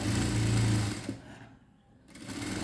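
A sewing machine stitching folded cloth, a loud steady mechanical whir that stops briefly mid-clip and then starts again, up close and alone.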